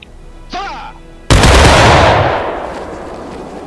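A shouted command rings out, then a massed rifle volley from a company of soldiers in the Civil War game War of Rights erupts as one loud, crackling blast that rolls and decays into echo.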